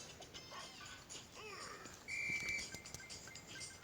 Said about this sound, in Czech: To na mě pískáš, to nepříjemně ruší.